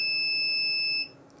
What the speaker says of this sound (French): Donc là ça c'est le bip du...